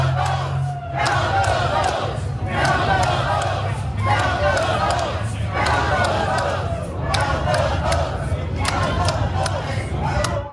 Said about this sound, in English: Like here's a crowd of people in Arizona.